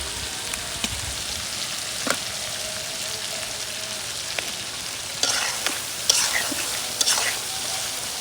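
Fish goes into a pan of spices and green chillies over a clay stove, frying with a dense, steady sizzle. Spatula scrapes and clinks recur through it, and faint voices sit in the background.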